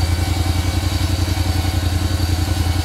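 A small ATV engine idles steadily up close, its low rhythmic chugging and rattling holding constant throughout with no voices.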